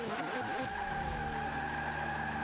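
A race car engine roars and tires skid in the video game Forza Motorsport 5, a loud sustained whine with a brief scrubbing screech early, steady throughout.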